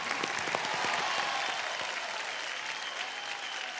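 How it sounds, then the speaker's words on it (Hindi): Studio audience applause on the Superstar Singer Season 3 singing show, a full, steady wash of clapping from a crowd for nearly four seconds. "पहले तो एक बार मैम के लिए फिर से तालियां एवरीवन"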